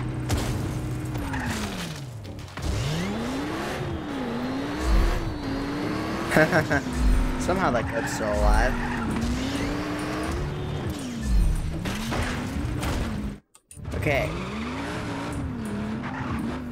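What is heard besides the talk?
fast sports car driving in video game Just Cause 3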